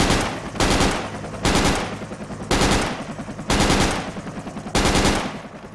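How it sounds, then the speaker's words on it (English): Automatic weapon fire in the military shooter game Project Reality, heard as five or six loud, closely spaced bursts of rapid shots at a regular rhythm, close and dominant. "Alright, I'm gonna shoot at them."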